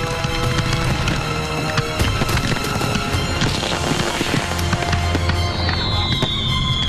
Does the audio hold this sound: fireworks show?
yes